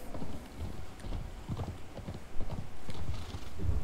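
Horse hooves clip-clop in a quick, uneven trot across the ground in the video game Conan Exiles, the hoofbeats moderately close and unaccompanied by talk.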